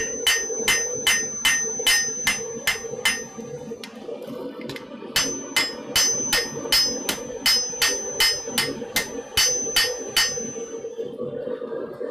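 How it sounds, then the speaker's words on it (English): A smith's hammer strikes an anvil hard in a rhythmic series of bright, ringing blows, each leaving a sustained metallic tone, with a brief pause midway before the steady hammering resumes. "Every now and then you just gotta strike the anvil hard so you can hear it ring."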